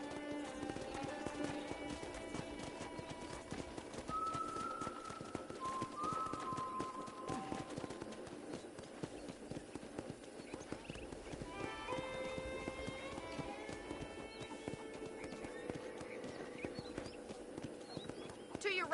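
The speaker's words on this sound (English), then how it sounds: "let's see if you can still ride a horse" Horse hooves clip-clop steadily at a riding pace in Red Dead Redemption, a near, rhythmic trot carried along under in-game music and talk, with an occasional faint whinny.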